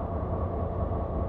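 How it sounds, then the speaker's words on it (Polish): A train passes in Train Simulator 2020 on the Oberstdorf–Immenstadt line, a steady low rumble of wheels and carriages rolling by, heard alone without talk. "Pociąg."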